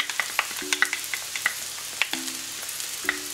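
Mushroom sandwich filling with garlic powder, black pepper and barbecue sauce sizzles softly in a pan while a utensil stirs and taps in irregular clicks, close and steady, with no talking.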